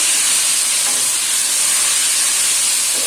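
Tomatoes hit hot oil with cumin seeds in a pan, giving a loud, steady, close sizzle that hisses evenly throughout with no voices.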